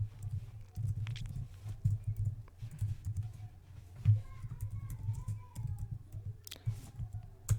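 Steady, quiet clatter of computer keyboard typing as C++ code is written, with light irregular key clicks and a few sharper taps, heard close and without speech.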